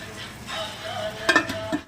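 Onions frying in a pan for a bachelor-style chicken curry, a soft steady sizzle under faint stirring with a couple of sharper utensil scrapes near the end, close and fairly quiet, no talk.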